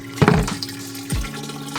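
Water from an aquarium water change is poured into a bin to water a garden and house plants, a short close splash and gurgle of falling water.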